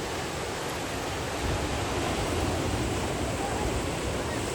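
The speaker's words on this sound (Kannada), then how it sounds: "ಇಲ್ಲಿ ನೋಡಿ ಯಾವ ರೀತಿ ಅಲೆ ಬರ್ತಾ ಇದೆ ಅಂತ" Sea waves surge and break continuously on the shore, a loud, dense wash of surf roaring without pause, with some wind buffeting the microphone.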